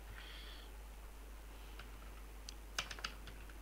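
Keystrokes on a computer keyboard while writing JavaScript code, a handful of faint scattered taps building to a brief cluster of louder clicks near the end over a low steady hum.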